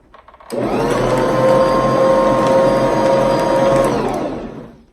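A Bosch stand mixer whirs steadily as it blends berry muffin batter, starting abruptly after a brief soft clatter, holding a loud, even motor drone with a high whine, then winding down near the end.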